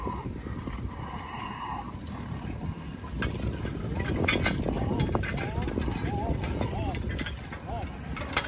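Horses at a horse pulling contest in Merrill, Michigan, with hooves clip-clopping and shuffling on the ground amid crowd noise, while people talk throughout.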